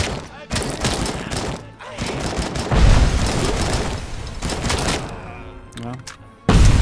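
Uzi gunfire in the RoboCop video game, heard as loud rapid bursts and booming shots in clusters with short pauses, while a person talks over parts of it.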